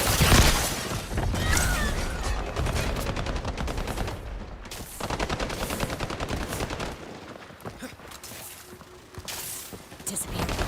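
Gunfire in the video game Highguard, with dense rapid automatic bursts and loud crackling shots throughout, heard under speech.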